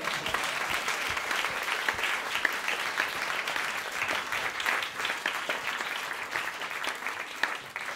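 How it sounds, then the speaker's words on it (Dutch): A live audience at a book-club talk event applauds its guests with steady, dense clapping that holds at an even level for the full eight seconds, with no talk over it. "Mag ik een applaus voor mijn gasten?"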